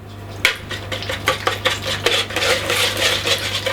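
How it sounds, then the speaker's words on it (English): Eggs being whisked hard in a bowl for Yorkshire pudding batter, a fast rattling clatter of whisk against bowl, loud and close, with quick irregular strikes and no talking. "And now we're gonna whisk that aggressively together."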